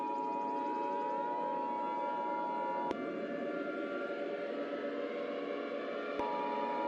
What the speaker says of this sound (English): Up there's those sirens.